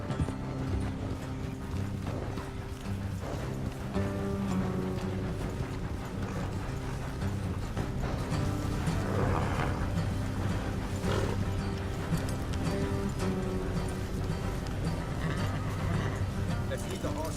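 Horse hooves clip-clop through the Red Dead Redemption 2 game world, with whinnies among them. Steady rhythmic footfalls run the whole time under music and other game noise, and a voice talks over them.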